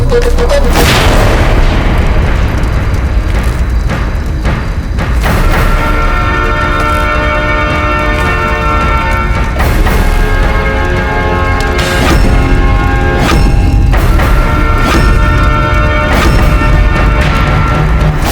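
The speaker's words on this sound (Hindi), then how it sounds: "अकबर के अपने खेमे में इतना बड़ा धमाका" A massive explosion tears through an enemy army camp, a loud booming blast followed by sustained rumbling, crashing debris and ringing metallic tones that keep going with repeated heavy impacts.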